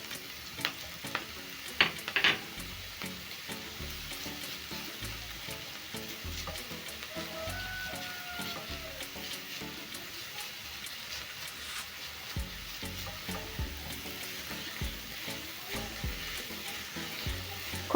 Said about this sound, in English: Cook until the garlic is fragrant and the vegetables have softened up a little bit